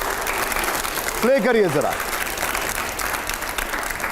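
Studio audience applause during a televised interview with editors, a steady clapping wash under a short spoken line, with a brief tonal musical sting in the middle.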